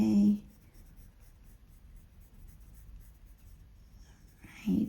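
A lapis blue colored pencil lays a light layer of shading on paper, making a soft, steady scratchy rasp close by, framed by brief spoken bits at the start and end.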